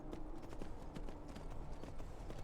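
Quiet, soft horse hooves clopping in a steady rhythm while riding on grass at night in the video game Skyrim, muted footfalls with no talk over them.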